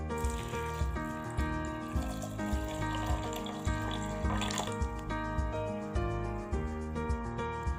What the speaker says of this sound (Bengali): এবার দুধটা দিয়ে দেব।